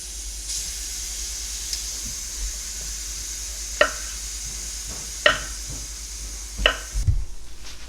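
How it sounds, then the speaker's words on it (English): A pressure cooker at full pressure lets out a steady, bright hiss for several seconds before it cuts off, with a few soft clicks and knocks nearby. "the pressure cooker is up to pressure. I'm going to turn it down"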